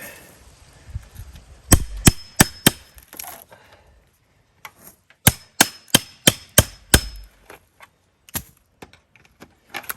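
Fencing pliers working fence staples out of a wooden post during fence removal: close, sharp metallic taps in quick bursts of four or five, separated by pauses and softer scraping clicks, with no talking.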